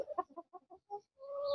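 A rooster clucking nearby in a series of short, distinct clucks, then a longer drawn-out call at the end, clear and alone with no talk.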